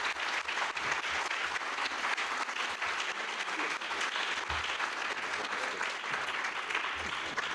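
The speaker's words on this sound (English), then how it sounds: "So, big round of applause." Audience applause follows a town charter debate, a steady, even wash of clapping from a full room lasting several seconds with no talk over it.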